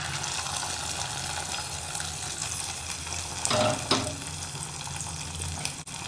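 Cashews roasted in ghee are stirred into a simmering semiya sago payasam, giving a quiet, steady wet sizzle with a few soft scraping stirs near the middle.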